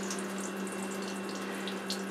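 Water from a tap running steadily over a glass plate in a darkroom sink, a constant close hiss and splash with faint droplet spatters and a low background hum.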